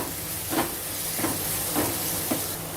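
Chopped medium-sized tomatoes frying in a pan for a raw mango fish curry, a continuous soft hiss with faint stirring scrapes at regular intervals, heard alone.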